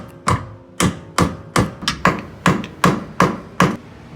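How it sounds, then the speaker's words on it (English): Sharp, loud metallic-wooden strikes of a hammer driving a screwdriver to split a Nissan 300ZX rear differential, about ten blows in a steady, slightly uneven rhythm, close and alone. "I should be able to split it with enough punching and chiseling and whatever else that I'm not supposed to be doing with screwdrivers"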